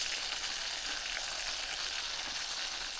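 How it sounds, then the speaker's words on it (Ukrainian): Steady crackling sizzle of food frying in a thin pan, a continuous, fairly soft hiss with faint pops and no voices. "А на цій сковорідці його нормально не пожариш."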